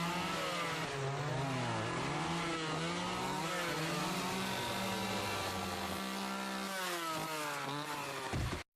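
A chainsaw roars and revs continuously in a horror film scene, its loud engine note rising and falling in pitch before cutting off abruptly.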